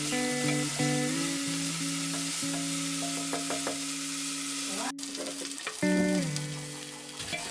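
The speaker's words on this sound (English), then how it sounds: "drop in the crushed ginger, garlic and turmeric, saute it for a while and then add the onions" Crushed ginger, garlic, turmeric and onions sauté in hot mustard oil for a beef trotter soup, a soft steady sizzle with occasional stirring scrapes under prominent background music.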